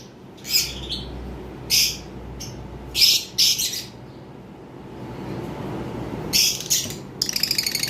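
Lovebirds, a red head opaline paired with an orange head green opaline, chirp in sharp bursts, several quick shrill calls spaced across the clip, ending in a rapid run of tweets, close and clear.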